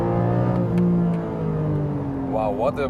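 A Porsche 718 GTS 4.0 engine revs hard toward its 7,800 RPM limiter on a racetrack, a loud sustained rising drone from inside the car, with a person exclaiming over it near the end.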